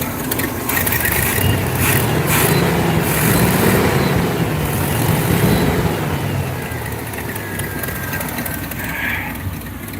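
A Pontiac Firebird engine runs low on gas, giving a steady, rough mid-pitched drone close by that sags slightly toward the end. No one speaks.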